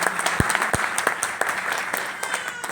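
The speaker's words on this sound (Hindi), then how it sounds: "मैं चाहूंगा एक बार जोरदार तालियां" An audience at a network marketing seminar in India bursts into loud applause for a senior presenter, with dense, sustained clapping lasting throughout and a few sharp close claps standing out.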